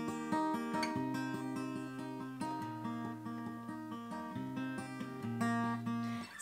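A fast, intricate acoustic guitar picking pattern for a song rings out alone, with clear, repeating plucked notes over low sustained strings at a quiet level.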